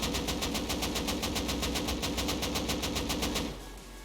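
Rapid automatic gunfire striking an armored helmet in the video game Rust: a steady, fast string of sharp metallic hits lasting over three seconds, loud and close, then cutting off to a quieter hum.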